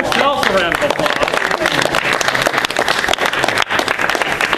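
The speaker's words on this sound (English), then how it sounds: "Give yourselves a round of applause." An improv theater audience breaks into loud, dense applause before a show, continuous clapping filling the room with some voices mixed in.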